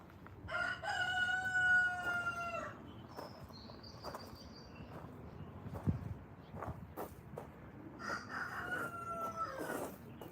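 A rooster crows twice, a long harmonic call near the start and another toward the end, with outdoor background noise and brief clucks between.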